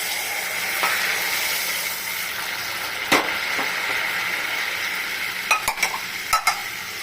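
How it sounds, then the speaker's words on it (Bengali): Hot water poured into hot spiced oil for a tangy boroli fish curry, giving a steady broad sizzle and hiss with a few sharp clinks and pops, close and alone. "এখন এই অবস্থায় আমি জল দিয়ে দিই।"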